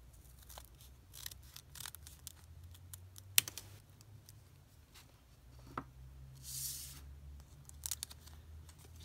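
Scissors snip through folded origami paper near the edge of the stack, giving quiet, close clicks and crisp cuts in a few short bursts with soft paper rustling between them.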